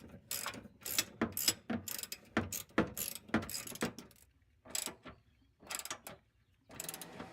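A ratchet cranks down the fuel tank strap bolts on a 1991 Mustang GT. Close, crisp clicking comes in bursts of strokes, with short pauses between the sets.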